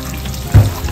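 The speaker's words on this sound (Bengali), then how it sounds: "এখন আমি এটা কষাই নিব।" Mutton and potato curry with garam masala frying in a pan, a short sizzle that swells briefly mid-clip over a steady low background, close and fairly loud.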